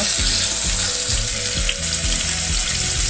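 Chicken pieces fry in very hot oil in a Teflon pan, making a loud, close, continuous sizzle with rapid crackling and spitting and no voices.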